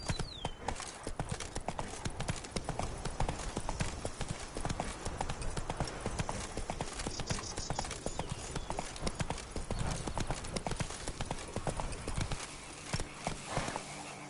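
Horse hooves clip-clopping at a steady gallop in The Witcher 3: Wild Hunt, loud and continuous with a rapid driving rhythm, ending in a brief slowdown.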